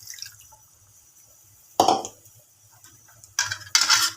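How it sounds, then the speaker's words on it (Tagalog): A glass of water goes into a pot of pork and chicken humba in a few short splashing bursts amid faint kitchen clatter, otherwise quiet. "Pwede mag-add tayo guys ng isang basong tubig dito"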